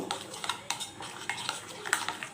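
A spoon clinks and scrapes quickly against a bowl, mixing a heated oil sauce for Korean-style Maggi noodles, with close, rhythmic taps and stirs.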